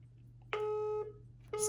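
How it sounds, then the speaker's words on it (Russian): A mobile phone call's ringback tone: one steady electronic tone lasting about half a second, a pause, then the next tone starting, clear and moderately quiet. "Идет вызов."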